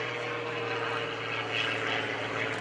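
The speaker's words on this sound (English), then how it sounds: "It makes a wonderful aerobatic airplane, and it's also used in competitions." A propeller aerobatic airplane flown by Gary Ward at the 2013 Greenwood Lake Airshow drones steadily at close to middle distance, a loud continuous engine and prop hum with slight swells and no talk.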